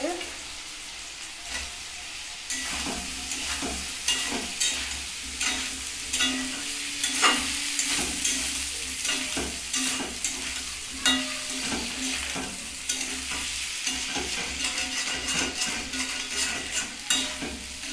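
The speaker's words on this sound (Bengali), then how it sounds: "এবার এটা গ্যাসটা বাড়িয়ে ভেজে নিচ্ছি" Potatoes and onion fry in oil over a raised gas flame for a winter vegetable and egg curry, a steady close sizzle broken by repeated stirring scrapes and clinks, with no voices.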